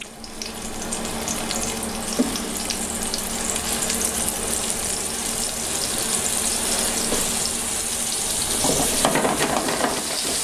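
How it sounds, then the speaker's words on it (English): Steady, dense sizzling of meatballs frying in a single layer in vegetable oil in a pan, continuous and fairly loud throughout, with no voices. "I add a little bit of pure vegetable cooking oil, just enough of it to cover the bottom."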